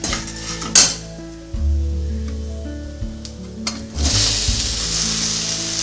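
Raw banana poriyal ingredients fry with salt in a pan, a steady sizzle with scraping stirs and metal clinks from the utensil against the pan, under a soft tonal background.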